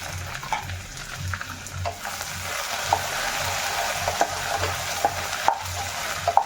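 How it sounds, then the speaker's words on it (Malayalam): Okra sliced for a Kerala theeyal fries in hot oil as a spoon stirs it, giving a steady close sizzle with rhythmic scraping and sharp little pops and taps against the pan. "നമ്മുടെ വെണ്ടയ്ക്ക ഒന്ന് ഇളക്കി കൊടുക്കാവേ"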